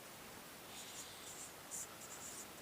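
Pen scratching on paper while a statistics formula is written out, faint and close, with short irregular strokes over a soft hiss in a quiet room.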